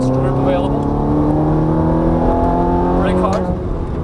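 Ferrari F430 F1 on a racing track, engine note dropping under hard braking with sharp blips as it downshifts, loud and close, falling pitch throughout, with a voice talking over it.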